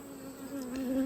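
Honeybees buzzing at an open hive, a steady close drone of many wings with a clear tonal hum that swells slightly louder toward the end, no voices.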